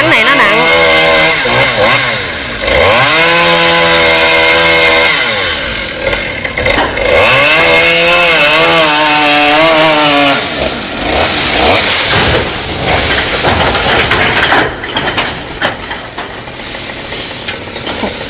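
A chainsaw cuts a heavy Sao tree branch lodged in a house roof, its engine revving up and down in long loud bursts, bogging and climbing as it bites into the wood, with voices faintly underneath.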